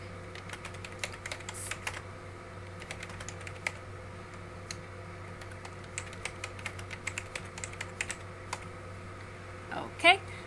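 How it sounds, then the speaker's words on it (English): Computer keyboard typing during a LimeSurvey setup: irregular bursts of quiet, close key clicks spread over ten seconds, with a faint steady hum underneath and a louder short clatter near the end. "So I'm going to type something here"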